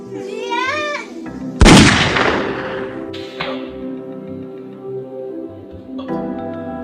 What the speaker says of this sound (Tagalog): gumuho ang mundo ni Emilio nang marinig niya ang putok ng baril